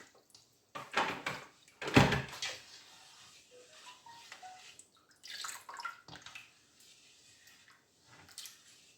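Water pours and splashes as it is mixed by hand into homemade laundry starch, giving wet sloshing and squishing bursts with a few drips, loud at first and then softer, with no talk.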